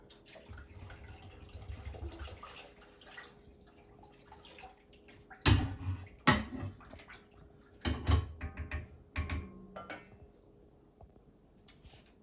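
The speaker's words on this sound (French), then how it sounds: "comme j'ai pas beaucoup de bouillon, je vais ajouter un peu d'eau" Water is poured into a pot of homemade onion soup with chicken and vegetable broth, giving soft splashing and trickling with a few sharper clinks and knocks from the pot, close and without talk.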